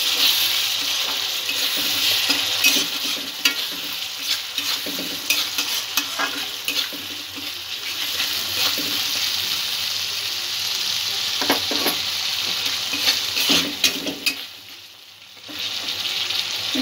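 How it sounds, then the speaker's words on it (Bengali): Curry with yogurt sizzles steadily in a pan while a spoon stirs and scrapes through it, a continuous close frying hiss with irregular clinks and scrapes, briefly quieting near the end. "সবকিছু আবারও ভালো করে একটু মিক্স করে নেব।"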